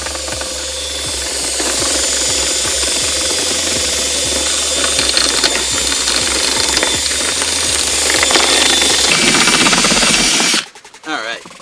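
A power drill bores a hole, grinding and chattering loudly and steadily for about ten seconds with a rough, mechanical edge, then cutting off abruptly into a short, quieter clatter.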